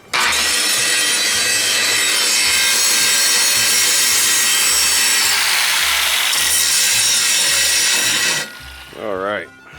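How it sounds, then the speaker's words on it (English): A loud power tool grinds protruding pieces flush inside an RV during a washer fluid reservoir repair, continuously for about eight seconds, then cuts off, followed by a brief voice. "Grind them off nice and flush."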